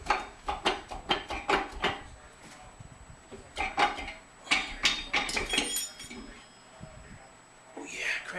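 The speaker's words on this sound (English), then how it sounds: "we can go ahead and remove this crank" Crankshaft being pulled from a Honda F23 engine block during a tear-down: a series of sharp metallic clinks and knocks in irregular bursts, close and fairly quiet, with someone talking between them.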